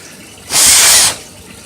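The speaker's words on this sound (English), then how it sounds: "I'm blowing right up in here to get the water out." Sustained burst of air blown up into a wet plant-watering reservoir to dry out its insides, a loud broad hiss lasting about half a second and stopping cleanly, with no talk.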